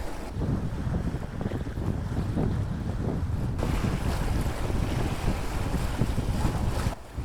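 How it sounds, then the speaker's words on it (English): Wind rising while single-handed sailing a sailboat in winter at about 6.5 knots, a loud continuous roar of wind buffeting the microphone over rushing water and waves, with gusts surging throughout. "Now the wind is picking up."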